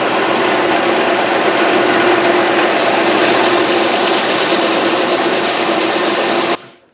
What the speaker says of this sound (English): I'm going to take this to the bandsaw and once again do a rough cut around it